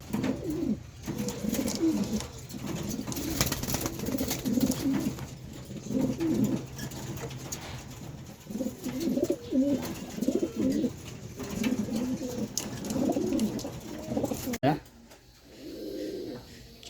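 Hen pigeons in a loft give repeated soft, throaty coos in steady rolling bursts, close by, while a person talks quietly over them.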